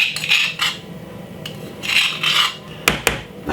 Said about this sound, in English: we're just gonna simply scrape it out